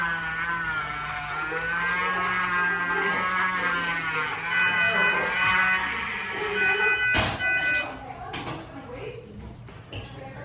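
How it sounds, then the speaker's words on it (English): An electronic alarm at a bird veterinary clinic beeps in short repeated tones over a steady hum during treatment of a rooster's bumblefoot, with people talking throughout. "I don't have a free hand to silence that alarm."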